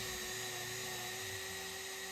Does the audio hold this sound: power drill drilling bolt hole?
yes